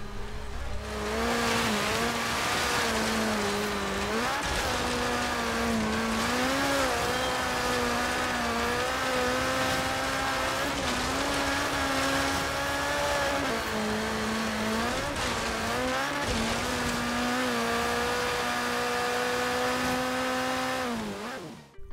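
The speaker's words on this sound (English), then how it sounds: "the Lancia Delta, absolutely fantastic car to drive, and I'll let you guys enjoy the rest of the hot lap" Lancia Delta Group B rally car engine roaring through a hot lap in the Forza Horizon 3 racing game, loud and continuous, revving up through gears with repeated upshift dips and rises, plus occasional tire squeal.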